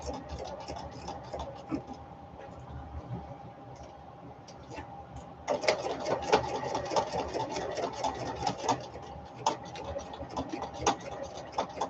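An older sewing machine without a thread cutter stitching fabric for a fabric container, a steady mechanical whir and rapid ticking that starts softer and grows louder and busier halfway through, close, with no clear talk.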